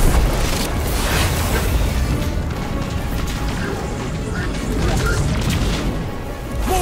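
Heavy missile explosions in the video game Destiny 2, a dense, loud, continuous barrage of booming blasts and crashes with no pauses.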